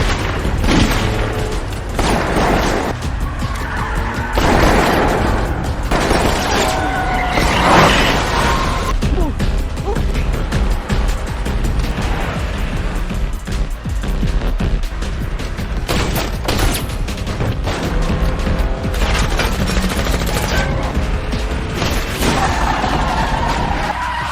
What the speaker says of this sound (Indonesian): Mereka berhasil menyusul mobil Gisung yang melarikan diri dan terjadi baku tembak.